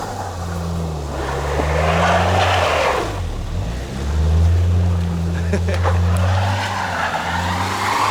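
A front-wheel-drive car drifting, with a steady engine drone and swells of tire noise rising and falling across the run, loud and close, with voices talking now and then over it.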